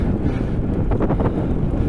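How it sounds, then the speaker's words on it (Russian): Headwind blasts across the microphone while cycling through fields near Yakutsk, a dense, continuous low rumble, loud and unbroken throughout. "Ветер, кстати, встречный."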